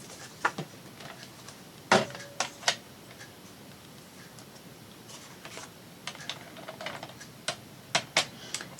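Scissors cutting through paper for a denim-themed collage craft project, a run of sharp, close snips and clicks spaced irregularly, some in quick pairs, with no talking.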